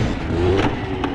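A small scooter engine revs up briefly, a short rising buzz of acceleration close by, with a second quick throttle blip near the end.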